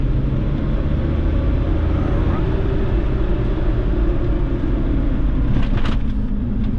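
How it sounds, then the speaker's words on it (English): Cabin road noise from a 1996 Suzuki Carry mini truck on the move: a steady, loud low rumble of engine and tires throughout, with a brief brighter whoosh near the end and no talking. "you can actually hear kind of the road noise of this thing"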